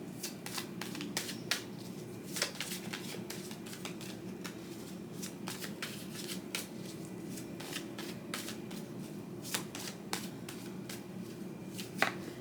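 Tarot cards riffled and shuffled repeatedly at close range, a steady papery flutter broken by sharper snaps and taps, with no talking.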